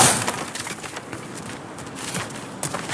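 Objects smashing and breaking apart in God of War Ragnarok, brittle crashes and cracks of wood or glass scattered through a busy game soundscape, with a sharper break near the end.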